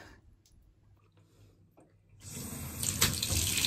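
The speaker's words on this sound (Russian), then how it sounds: "Один матик уже постирала, стираю второй." Water from a tap begins running while small mats from a snail container are washed, a steady splashing rush that starts partway through and stays fairly close after faint handling sounds.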